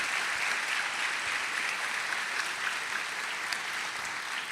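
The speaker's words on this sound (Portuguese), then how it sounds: "Uma salva de palmas para o Isaac" A church audience applauds steadily as Pastor Isaac is welcomed to the stage, a dense, even wash of clapping that holds at a constant level throughout with no voices above it.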